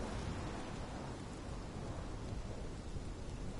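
Thunderstorm from the video game Life is Strange: a steady, dense wash of rain and low thunder rumble, continuous and fairly quiet throughout, with no voices.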